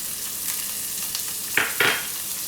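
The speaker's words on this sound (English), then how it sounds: "Once they get slightly brown, add in the chopped onions" Chopped onions sautéing with curry leaves in a pan for a South Indian lunch, a steady close sizzle broken by two short bursts of louder frying as the mix is stirred, no voices.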